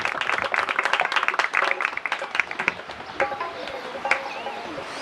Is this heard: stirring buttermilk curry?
no